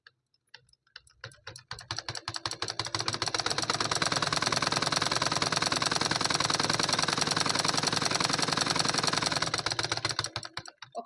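A sewing machine stitching the cotton lining of a blouse, starting at the shoulder: a few slow taps, then a loud, steady, rapid mechanical rattle that runs for several seconds before slowing to a stop.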